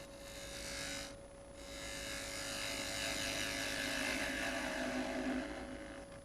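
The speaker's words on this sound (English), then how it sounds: "So I'm just going to take the spindle gouge and do a straight cut across" A spindle gouge makes a straight cut across wood on a running lathe while shaping a pencil box: a continuous close scraping rasp over a steady motor hum, with a brief pause early on.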